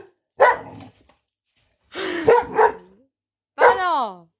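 A dog barks and whimpers in three separate bursts; the last one is a drawn-out, yelping, whining bark, and an excited voice comes in between the bursts.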